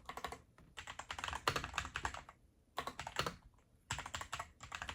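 Rapid clacking keystrokes on a Machenike K500 Pro mechanical keyboard come in close, crisp bursts separated by brief pauses, with no voices.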